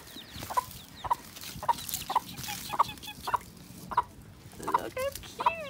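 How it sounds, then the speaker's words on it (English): A hen and two small chicks in a barn make soft clucks and high cheeps, with about ten regular short calls alongside quick peeps and faint background noise. "So here are two little chicks and their mom."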